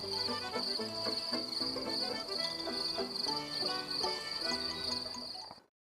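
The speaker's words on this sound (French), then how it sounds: "Le chant des grillons des nuits d'été fait oublier les soucis, les épreuves." Crickets chirp on a summer night, a steady high, shrill trill that runs unbroken beneath layered music until an abrupt cutoff.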